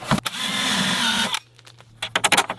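A power drill drives a bolt into wood at an Alaska cabin build site, running steadily for over a second before stopping, followed by a few sharp clunks and knocks of handling.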